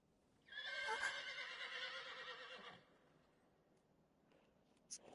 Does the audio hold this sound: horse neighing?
yes